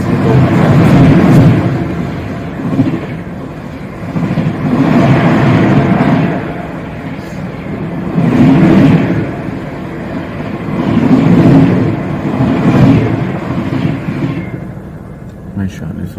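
Rhythmic whooshing rumble of the Vaishali Superfast passing alongside, heard from inside a 2AC coach of the Bihar Sampark Kranti between Gorakhpur and New Delhi; loud, surging in regular pulses as coaches go by, with a voice speaking.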